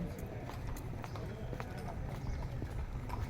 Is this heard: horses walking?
yes